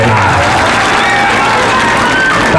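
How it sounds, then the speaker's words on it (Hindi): A large crowd at an outdoor political speech in Alauli, Bihar, applauding and cheering loudly, a continuous dense wash of clapping and voices throughout. "ताली नहीं बजाना है"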